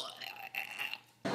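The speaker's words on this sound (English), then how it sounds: "Oh, I'm going to burp. I can feel it coming." A single drawn-out human burp, close and fairly loud, with a raspy voiced tone lasting about a second, followed by a short rustle.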